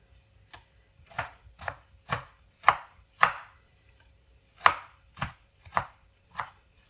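Tomato, green chilies and coriander being chopped with a knife on a board: about a dozen crisp, distinct chops in an uneven rhythm, close and clear with quiet pauses between strokes and no talking.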